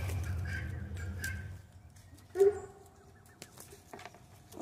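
Turkeys being herded into their shelter for the night, with one sharp, close gobble bursting out midway over soft rustling and low background murmur, the rest of the flock quiet.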